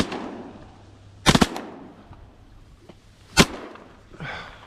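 Shotgun blasts from duck hunting in a saltwater marsh targeting gadwall: a quick double-triple burst of sharp, loud shots, then a single shot a couple of seconds later, with a faint voice near the end.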